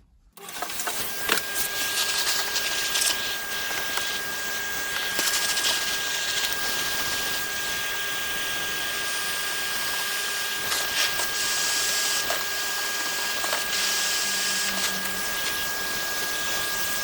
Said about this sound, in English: we'll give it a bit of a vacuum because it's all a bit hairy